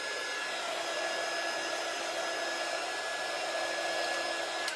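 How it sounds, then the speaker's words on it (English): A hot hair dryer-style heat tool blows steadily over freshly painted wooden chicken cutout, a continuous close whooshing roar with a faint whine, unbroken for the whole stretch. "this dryer gets really hot"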